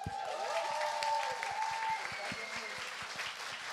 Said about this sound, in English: J'aimerais qu'on fasse un tonnerre d'applaudissements si possible.